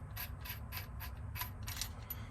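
The bit holder of a tool is unscrewed by hand, giving a series of faint, close metallic clicks and ratcheting ticks in an irregular rhythm.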